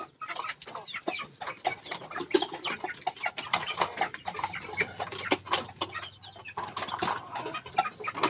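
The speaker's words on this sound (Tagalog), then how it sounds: "napakain na natin yung mga hen natin" Hens clucking in a coop: many birds cluck and squawk in quick, uneven bursts, near and lively, with no one talking.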